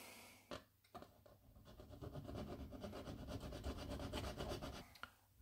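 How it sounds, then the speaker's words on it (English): A model railway rail being filed by hand, heard as steady, close rasping strokes with a few sharp taps at the start and end, and no voices. "this thickness needs to be filed filed off to get a perfectly sharp"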